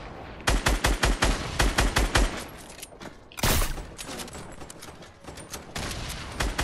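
Rapid bursts of automatic gunfire in a Fortnite battle royale match, loud close volleys of repeated shots in quick rhythm, broken by a heavy crash midway, then further scattered firing.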